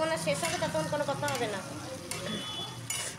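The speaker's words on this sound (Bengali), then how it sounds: "ক্যাপসিকামটা কিন্তু হালকা ভাজা হয়ে গেছে" Capsicum frying in a pan gives a close, busy sizzle with stirring scrapes while someone talks over it, and the cooking noise continues as her voice fades near the end.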